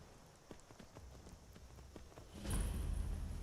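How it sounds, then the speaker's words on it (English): Hooves of a red-eyed horse in the Skyrim video game clip-clop in a steady walking rhythm, moderately close, before a louder low rumble swells near the end. "It's a pretty horse with red eyes."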